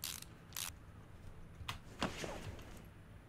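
A wrench refits the two exhaust bolts in Car Mechanic Simulator 2018, heard as a handful of sharp, separate metallic clicks and snaps spread across a few seconds against a quiet background.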